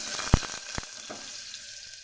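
Cut potatoes and papaya hitting hot oil with fenugreek seeds, a couple of sharp clacks followed by a steady frying hiss that settles and fades, close up.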